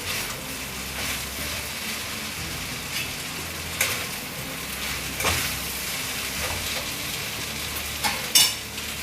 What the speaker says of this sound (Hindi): और इसे हम अच्छे से मिक्स कर देंगे सब्जियों के साथ।